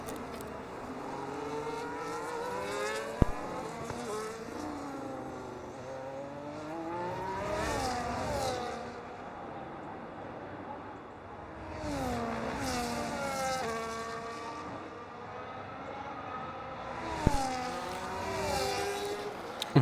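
Racing car engine screaming at full throttle in a sim racing game at the Spain circuit, with repeated rising and falling revs through gear changes and corners, loud and continuous, with several other cars audible around it.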